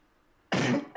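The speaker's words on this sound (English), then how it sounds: "That was a cough." A single sharp cough bursts out after half a second of near silence, close and loud, then a second short burst starts right at the end.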